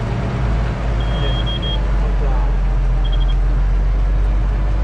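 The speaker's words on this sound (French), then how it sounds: "ce double bip, c'est-à-dire qu'il n'est pas content" Two short electronic beep sequences from a tractor's autosteer system sound over a loud, steady engine drone inside the tractor cab during wheat sowing.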